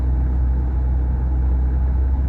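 A truck engine rumbles low and steady close by as it gets ready to drive off, a continuous deep drone with no voices.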